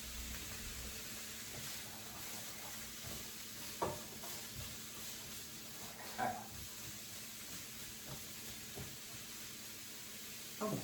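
Food stir-frying in a pan gives a soft, steady sizzle and hiss throughout, with occasional faint clanks and scrapes of stirring.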